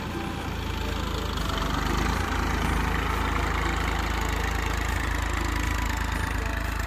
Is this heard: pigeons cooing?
no